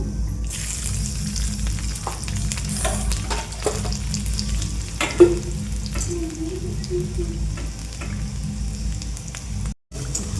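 Garlic and cumin sizzling in hot oil, a steady close crackle with occasional stirring scrapes, no voices.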